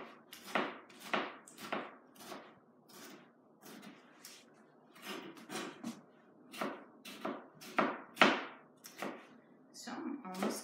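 A knife chops tomatoes on a cutting board in a quick, uneven run of crisp close taps, about a dozen or more sharp strokes with short pauses between bursts.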